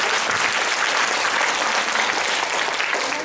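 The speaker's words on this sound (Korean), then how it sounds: "우리 토론해 주신 우리 김기하 토론자님께 박수 한번 부탁드립니다" Loud, dense applause fills a policy forum hall after a panelist's remarks, many hands clapping together in a continuous, close roar that holds steady throughout.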